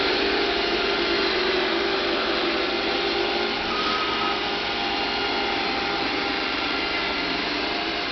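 A Bob robot vacuum cleaner runs with a steady, even whirring hum, close and constant throughout, noticeably quieter than a full-size vacuum, with no voices.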